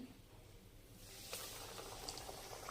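Semolina-coated cabbage cutlet bubbling in hot oil, a soft steady hiss and crackle that swells after the first second and carries on with a few faint pops, no voices.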